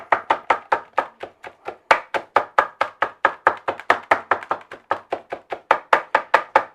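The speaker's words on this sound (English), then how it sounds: "I got this meat heated up. It's still pretty chunky. I want this pretty fine. So, I'm going to go ahead and put a good chop on this." Knife chopping heated taco beef on a board into fine pieces, a steady run of about thirty sharp, close, loud chops at a brisk, even rhythm with no talking.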